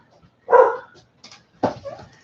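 A dog barks from another room of a home, giving two short muffled bursts about a second apart with near silence between them.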